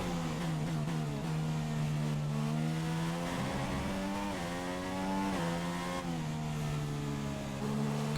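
Race car engine in the F1 2016 video game screaming steadily at high revs on a hot lap, pitch dipping briefly with each gear change and rising again, loud and continuous with no talk.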